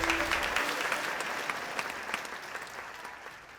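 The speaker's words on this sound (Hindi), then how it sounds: "यस यस, जोरदार तालियां गाइस," A room of people applauds a third-place singer in a domestic comedy scene, lively and sustained clapping that gradually thins and softens toward the end, with brief speech over it at the start.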